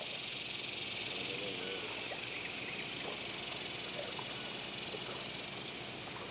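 Cicadas drone in a dense, steady high-pitched buzz on a summer river, constant and fairly loud with a faint pulsing texture and no talking.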